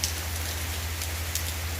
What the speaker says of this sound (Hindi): अभी भी बहुत तेज़ बारिश हो रही है